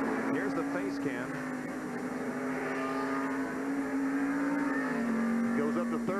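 A stock race car at the 1990 Banquet Frozen Foods 300 holds a sustained engine whine that dips and climbs slightly as it shifts up to third gear, with a voice talking over it throughout.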